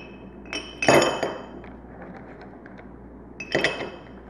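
Stones drop into a crystal vase, making two distinct bright glassy clinks a few seconds apart, each with a short ringing rattle over a quiet background.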